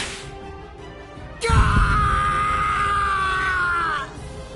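A man screams in pain in the video game Bleach Rebirth of Souls, a sudden loud, sustained anguished cry that lasts about two and a half seconds and then cuts off, preceded by quieter game sound.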